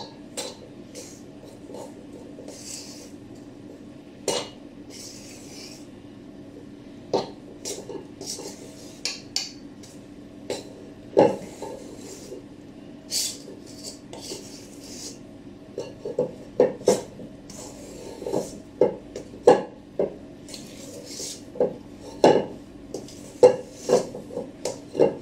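Dough for Zimtsterne is stirred by hand in a bowl, giving scattered sharp clinks and scrapes of utensil against the bowl that grow more frequent over time, with faint background hum.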